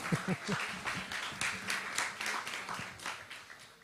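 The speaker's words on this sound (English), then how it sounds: "Please clap for her." An audience claps steadily at a climate talk event at the German Embassy in Accra, a dense patter of hands lasting a few seconds with faint voices underneath.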